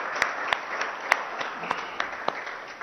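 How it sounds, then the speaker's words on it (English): An audience applauding steadily at a Formula E event in India, a dense wash of many hands with a few sharper nearby claps standing out, sustained and even throughout. "they deserve a huge round of applause from all of us."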